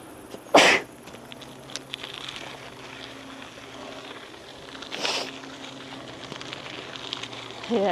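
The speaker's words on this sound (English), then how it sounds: "sneeze fest." Sneezing picked up outdoors during a live backyard walk in the Netherlands: one sharp burst near the start and a second fainter one about four seconds later, over steady low background noise.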